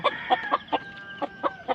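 A rooster for sale clucks in a quick series of about eight short, sharp calls, close and moderately quiet, with no talking over it.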